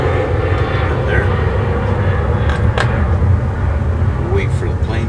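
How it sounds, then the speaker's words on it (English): A fixed-wing airplane takes off nearby, its engine a loud, steady rumbling roar that fills the whole stretch without letup, with faint background sounds over it. "Wait for the plane to finish taking off."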